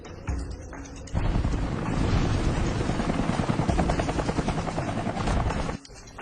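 A helicopter passes low overhead above open land, with a loud, dense rotor thump and engine roar that swells in, holds steady and then cuts off abruptly.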